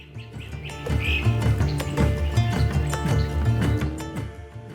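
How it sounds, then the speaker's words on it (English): Night birds call above the Ugandan savanna, a few high chirps and tweets rising over a steady bed of low, sustained music. "Above Uganda, night birds call"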